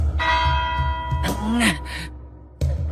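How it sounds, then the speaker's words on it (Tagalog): A single church bell tone rings out with a long, humming resonance, then fades beneath breathy sighing and shuffling noises. "Huwag niyo nang hintayin ang pangalawang tunog ng kampana."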